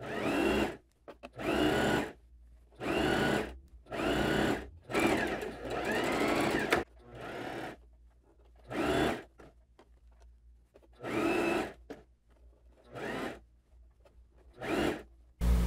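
A sewing machine stitches binding onto a loose summer jumpsuit, running in about ten loud, close bursts of steady whirring, separated by short pauses, with no talking.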